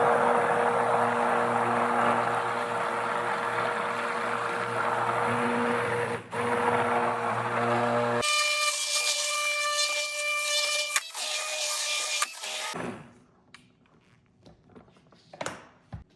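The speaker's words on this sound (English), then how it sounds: "once you start to see white, you can start to slowly raise your immersion blender" A loud, steady motorized whir of an immersion blender running continuously while making mayonnaise, changing pitch partway through before cutting off and leaving scattered clatter.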